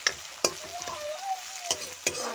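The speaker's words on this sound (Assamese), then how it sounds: "মাছকেইটা দি অলপ লৰাই দিম।" Fish stirred in a hot pan with onion, giving a steady sizzle of frying broken by a few sharp scraping knocks of the spoon, close and alone.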